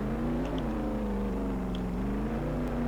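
A car engine in the Roblox game Jailbreak, the Molten M12, hums with a steady droning tone that wavers slightly in pitch, loud and continuous with no speech over it.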